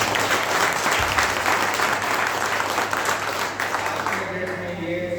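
Students in a college hall break into sustained applause, a dense wash of clapping that holds steady and thins slightly toward the end.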